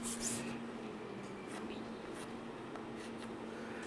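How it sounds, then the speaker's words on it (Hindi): Pen scratches faintly across paper in a quiet room, soft intermittent strokes under a low steady hum. "तो चलिए लिखते हैं,"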